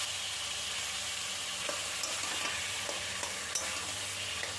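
Boiled taro leaves fry in oil spiced with dried and green chillies, a soft steady sizzle with occasional light scrapes and stirring taps, fairly quiet and close.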